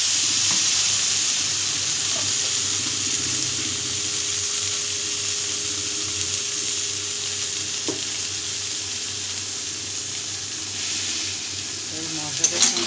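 Boiled taro leaves with chickpeas are fried in spice paste, giving a continuous close sizzle and crackle with a soft clink near the end.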